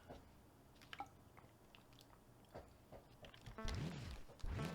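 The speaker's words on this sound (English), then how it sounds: "I'm going to drink some water while we wait." A person drinks water while waiting during a gaming session, with soft close-up sips and a couple of louder gulping swallows near the end, quiet and isolated.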